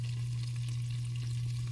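Chicken pieces stir-frying in a pan for orange chicken give a steady, even sizzle under a constant low hum, with no talking.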